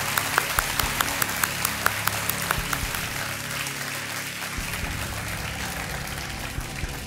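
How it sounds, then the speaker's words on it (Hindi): A studio audience at a televised quiz show applauds to welcome a contestant, with sharp individual claps at first building into dense, steady clapping that continues for several seconds. "तालियों के साथ इनका हम स्वागत करते हैं।"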